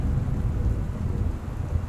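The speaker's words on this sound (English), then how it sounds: "Oh, that thunder though." Low rolling thunder during steady rain in the game Gone Home, a continuous deep rumble with dense rain hiss and no voices.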